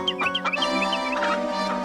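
Chickens cluck in short bursts over a steady background tone, several calls close together and fairly near.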